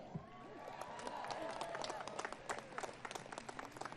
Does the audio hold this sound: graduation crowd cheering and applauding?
yes